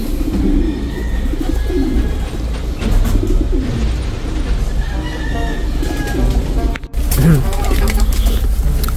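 Pigeons on a farm begging for food, with low rhythmic cooing that continues near and steady through the whole stretch amid background noise and voices.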